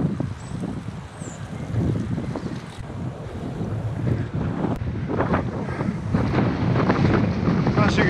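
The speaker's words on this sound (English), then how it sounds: "it's a bit windy today" Steady, gusty wind buffets the microphone during a bike ride in Lincolnshire in a continuous low roar, with faint rushing like waves underneath and no talking.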